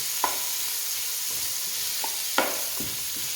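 Meat frying in rendered cooking fat for Cajun red beans and rice, a steady broadband sizzle with a few sharp scrapes and clacks of stirring scattered through it, close and moderately loud, no voices.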